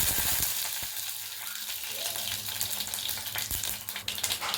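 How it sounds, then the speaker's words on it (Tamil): Fennel and mustard seeds crackle and sizzle in hot oil, a dense spattering hiss with occasional sharper pops, close up and continuous. "எண்ணெய் சூடான உடனே சோம்பு கடுவு ரெண்டுத்தையும் ஊற்றிக்கலாம்"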